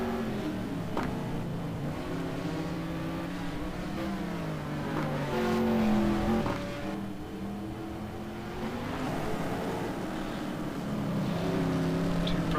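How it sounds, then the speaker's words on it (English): Race car engine in the Gran Turismo 2 video game at the Hockenheim circuit, a steady loud droning roar with shifting pitch as the car is driven carefully through corners toward the finish. "you can tell Chris is really nursing this car through here to the finish"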